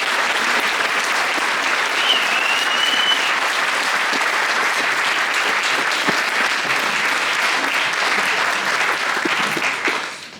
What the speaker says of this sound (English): Give Gerda a big round of applause.